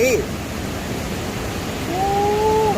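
Tad Lo waterfall in Lao Ngam, Salavan, Laos, pours in an even, hissing roar that swells slightly toward the end, with faint tonal calls drifting over it.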